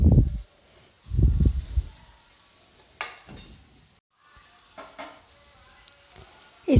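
Okra pieces go into hot oil for a low-oil achari bhindi fry made without onion or garlic, giving short bursts of crackling sizzle with quiet stretches and a brief silent gap between additions.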